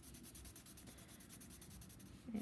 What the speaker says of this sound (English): And then I'm going to color it in.